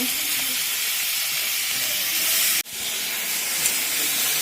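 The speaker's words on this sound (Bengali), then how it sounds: "ওই তেলে বাকি কটা ভেজে নেব" Prawns frying in oil in a kadai, a loud, steady hissing sizzle that briefly cuts out partway through and then resumes just as strongly, with no talking.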